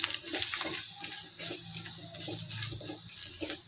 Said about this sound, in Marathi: ह्यामध्ये आता आपण एक ग्लास पाणी घेतलेलं आहे ते टाकून घ्यायचं